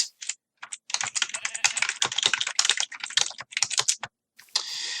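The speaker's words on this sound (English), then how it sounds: "Sorry about my clacky keyboard" Rapid, close clacking of a loud mechanical computer keyboard during Minecraft play, bursts of keystrokes in uneven rhythm with a couple of brief pauses, alone without talk.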